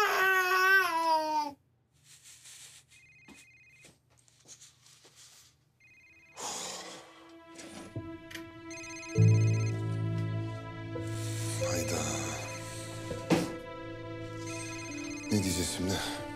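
A mobile phone rings from inside a living room drawer, its electronic ringtone repeating in short bursts. Voices and other household sounds come and go around it.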